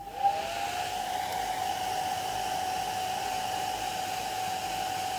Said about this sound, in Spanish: ya pasando a lo que es la aplicación del secador de pelo